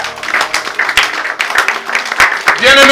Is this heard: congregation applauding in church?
yes